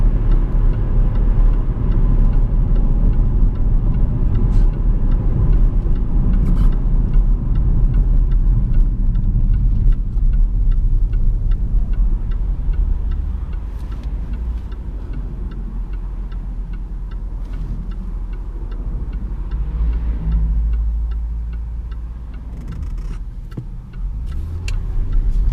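A Jaguar XF 5.0 V8 S Premium Luxury four-door sedan driving on a road, heard from inside as a steady low engine and road rumble with faint ticking, easing slightly in the middle before building again, no talk.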